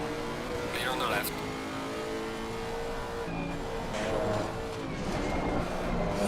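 Race car in a Nordschleife 24-hour sim race, engines droning steadily with a rival car sweeping past close alongside, a voice talking over the continuous engine noise.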